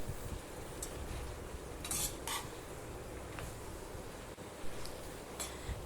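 Cauliflower with salt is stirred in a pan, a quiet low sizzle under repeated spoon scrapes and metallic clinks against the pan at an irregular pace, close by, with no one speaking.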